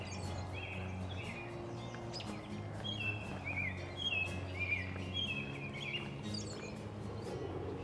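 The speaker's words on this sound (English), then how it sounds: "Can you hear the birds chirping?" Birds in a park chirp and trill in short, repeated phrases at a moderate distance over a steady low hum of background noise, with no talking.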